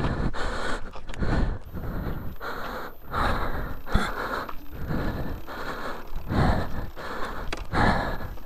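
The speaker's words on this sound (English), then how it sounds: "Sorry for the heavy breathing." A trail rider pants hard after a tough ride on a Surron electric dirt bike, with loud, close, rhythmic gasping breaths repeating steadily throughout and no talking.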